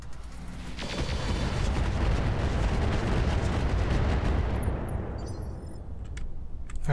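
In the Roguetech video game, a Treadnought mech fires all its weapons at once, producing a dense roar of artillery blasts and rattling gunfire that swells after the first second and stays loud before thinning out.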